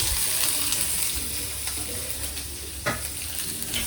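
Onion and curry leaves sizzle and crackle in hot oil in a frying pan, a loud, close hiss with stirring scrapes and occasional sharper pops, continuous and unaccompanied by talk.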